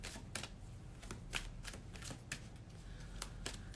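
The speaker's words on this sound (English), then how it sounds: "I'm gonna give these a nice little shuffle." Playing cards are shuffled close up, a quiet run of rapid papery flicks and riffles with no talking.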